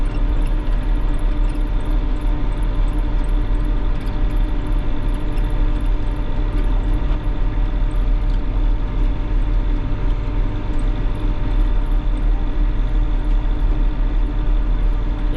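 Tractor engines drone steadily and loudly at close range as a convoy of tractors drives in a farmers' strike protest in Łowicz County, Poland, a constant low rumble with no change in pace.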